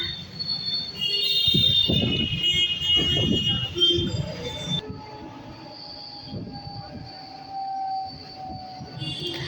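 A train runs on rails on a rainy day, with a steady rolling rumble under a loud, sustained high metallic wheel squeal that fades partway through.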